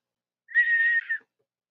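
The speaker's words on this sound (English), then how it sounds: "sorry for my whistling" A person whistles one clear, steady sustained note for about three-quarters of a second, ending with a short second note. No other sound is heard.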